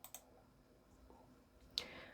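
Faint computer mouse clicks in a quiet room, two quick clicks at the start and a sharper single click near the end.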